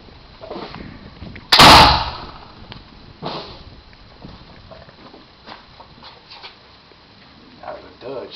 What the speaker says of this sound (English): I'm gonna take one more shot